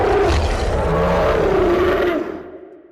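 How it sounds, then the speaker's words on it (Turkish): A sabre-toothed cat lets out a loud, sustained roar close up, one long rumbling blast over a wild scene that fades out near the end. "bir anda tanıdık bir kükreme sesi ortalığı inletiyor"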